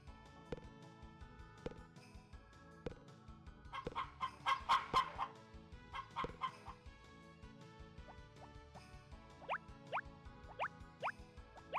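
Chickens in the PS1 farming game Harvest Moon Back to Nature, a burst of clucking and squawks in the middle among steady soft game tones and plinks, with quick chirping calls near the end.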